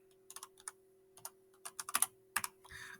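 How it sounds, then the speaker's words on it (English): Fingers tap a computer keyboard in short irregular bursts of quiet, close clicks over a faint steady hum. "I'm going to type in Computer 1."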